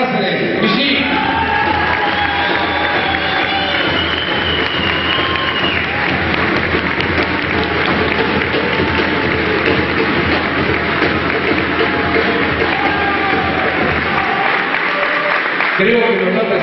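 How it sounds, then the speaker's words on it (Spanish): Sustained audience applause and cheering fill the room at a football club's awards ceremony honoring third-division champions, loud and continuous with crowd noise throughout. "Fuerte el aplauso, Emiliano Cáceres."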